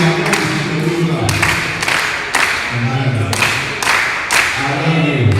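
Rhythmic group clapping at a Catholic Men Organization gathering, sharp claps landing in a repeated patterned beat with voices and murmuring underneath throughout.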